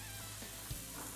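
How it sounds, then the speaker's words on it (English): Scallops sear in a hot pan for Cajun seafood Alfredo, giving a steady, close, full sizzle throughout the short moment, with no voices. "Kind of caramelize, sear them a little bit."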